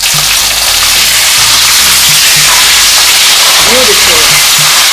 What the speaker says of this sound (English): So I will just flip it and fry it now on the other side.